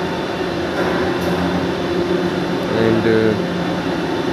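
A Toyota RX300 ring frame spinning machine running steadily, a constant mechanical hum and whir with a faint tonal drone, heard under a voice.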